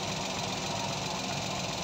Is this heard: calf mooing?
no